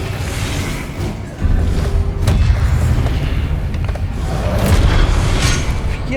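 An Incendio fire spell goes off in a video game with a sudden deep whooshing blast about a second in. The rumbling roar holds loud and steady through the rest, with no talking.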